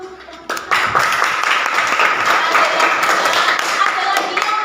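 A classroom of students bursts into steady applause, a dense continuous patter of clapping that starts abruptly and holds loud to the end.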